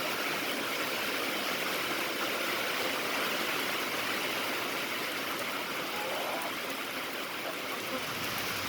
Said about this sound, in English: That's some big old raindrops.